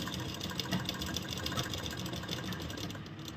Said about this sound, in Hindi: यहाँ से हम सिलाई शुरू करेंगे